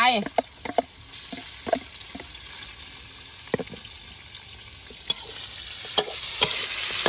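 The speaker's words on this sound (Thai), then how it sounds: "ทำการ คั่วให้มันสุกก่อนนะครับท่านผู้ชม" Ingredients dry-roasting and stirred in a pan, with a continuous hiss and scattered sharp scrapes and taps of a utensil, close by.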